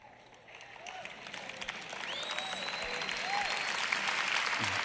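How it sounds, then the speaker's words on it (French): Sermon audience applause starts faintly and swells steadily into a dense, sustained wash of clapping from a large crowd. "Ces applaudissements ont commencé plutôt faibles."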